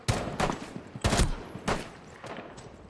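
Gunfire in a first-person shooter: loud, separate shots crack out in an uneven rhythm, five or six in all, each followed by a short ringing tail, with no talk over them.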